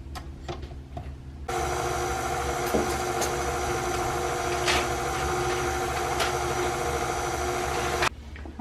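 Electric mixer beating powdered sugar and heavy whipping cream into a creamy mix, a steady loud whirring drone that starts abruptly, runs for several seconds, and stops sharply, with small kitchen clatter before and after.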